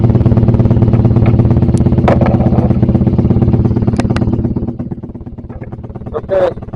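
A motorcycle engine running close by with a steady, rapid throb that eases off toward the end, with brief clicks and clatters over it.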